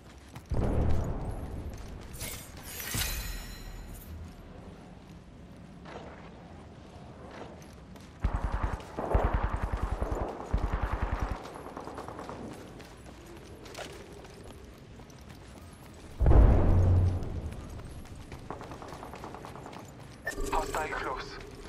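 Gunfire and grenade blasts from the video game Apex Legends, with bursts of shots and several loud booms at intervals amid game voice callouts.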